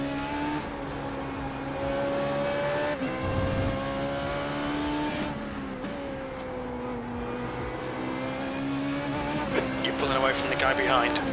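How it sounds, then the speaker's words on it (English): A Formula 3.5 race car in iRacing at Spa-Francorchamps drones steadily, its engine note rising and falling through gear changes, loud and continuous under occasional talk. "Great sound of your race car."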